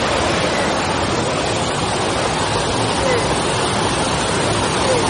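A waterfall pours in a steady, dense roar that fills the air, loud and close, without pause or change for its whole length.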